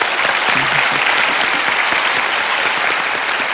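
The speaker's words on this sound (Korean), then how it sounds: "할머니도 지금 큰 박수를 치셨습니다" Sustained audience applause fills a Korean lecture-show hall, dense and steady clapping from many hands at close range throughout, with no voices above it.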